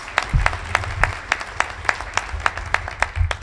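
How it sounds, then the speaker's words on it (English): A small crowd at a 2015 State of the City address claps in a sparse, distinct rhythm, with individual sharp claps standing out at fairly regular intervals. "let's give him a round of applause."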